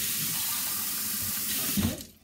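Water runs steadily from a tap into a filling sink, a continuous close hiss and splash that swells slightly before the flow is shut off and fades out, with no talk.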